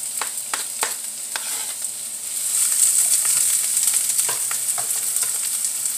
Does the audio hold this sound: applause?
no